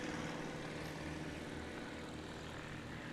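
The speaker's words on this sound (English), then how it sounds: "So we'll see what David Warren does on his takeoff this time for this crosswind." A STOL aircraft at the National STOL Series Championship in Sulphur Springs, Texas, drones steadily as it takes off down the runway in a crosswind, a continuous propeller and engine roar without breaks.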